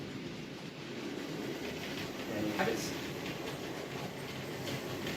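Model railway trains, including a Black 5 locomotive, run on a layout with a continuous rolling rumble and faint clickety-clack, swelling briefly midway, while someone speaks a few words.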